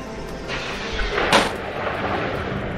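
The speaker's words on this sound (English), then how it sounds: "I think that it was a sonic boom. Did you hear that?" A ship in the Frontier Pilot Simulator video game lets off a sonic boom, a single muffled thump and brief crack over a steady low engine drone, heard at moderate volume with no talk.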